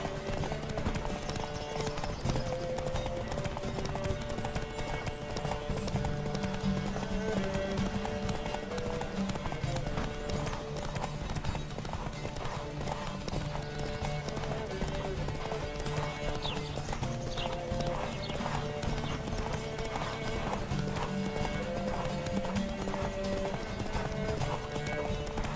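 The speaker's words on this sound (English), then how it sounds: "Don't spare the horse!" Galloping horse in The Witcher 3 video game: quick, continuous hoofbeats under layered game ambience and music, steady and moderately loud throughout.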